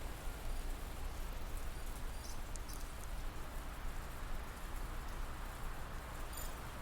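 Rain in the strategy video game Into the Breach, a constant dense hiss of falling drops at even, moderate loudness throughout with faint sporadic ticks.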